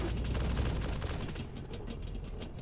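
AS-50 rifle fire in a tank PvP video game: a dense, continuous burst of rapid gunfire under a loud rumbling noise bed, tapering slightly toward the end.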